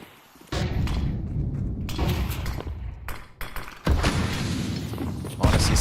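Frag grenade explosions in Counter-Strike during a major tournament match, several heavy booming thuds in quick succession with a low rumbling tail, loud and close, mixed with game ambience.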